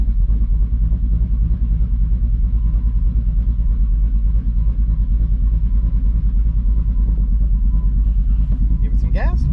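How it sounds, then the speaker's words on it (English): A Ford F150 engine idles with an uneven lope, a loud steady low rumble close by with a slight rhythmic pulse; a voice comes in near the end. "When you let off the gas, it'll go into a lope."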